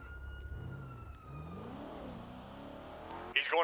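Cars drive away in a GTA roleplay police game, with engines revving and tones sweeping up and down under a siren-like whine, moderately loud, ending in a sudden burst of noise.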